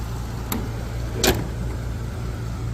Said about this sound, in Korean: 엔진 사운도 한번 들어보시기 바랍니다